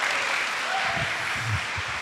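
Applause from a church congregation welcoming a visiting trio, a steady wash of clapping filling the room for about two seconds, with faint low voices murmuring beneath it.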